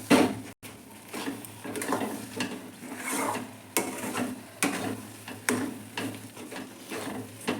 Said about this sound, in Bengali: আগে একটু নাড়িয়ে নিই।